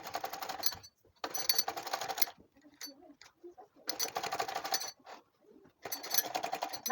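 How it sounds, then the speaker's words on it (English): A sewing machine runs in short, quick bursts while stitching fabric for a tote bag, rapid mechanical chatter starting and stopping with brief quiet gaps and small clicks between runs. "So now let's go and start stitching."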